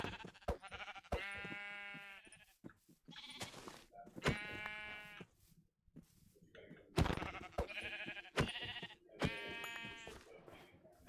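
Sheep in a video game bleat repeatedly in loud, close, harmonic calls spaced across the span, with short gaps of quieter game sounds between them.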